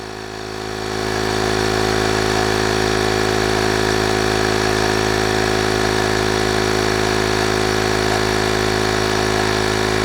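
A portable air compressor inflates a car tire punctured by a nail, its motor droning in a steady, loud hum with a constant pitch that runs unbroken throughout, with no talking.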